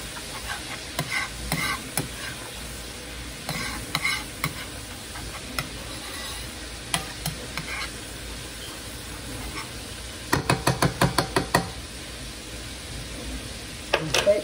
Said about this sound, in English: We're gonna turn down the stove a little bit. Stir this up.